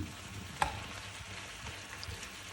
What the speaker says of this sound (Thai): ผัดใส่น้ำมันหอยอุ้ยหอมตุ้ยๆเลยเนาะ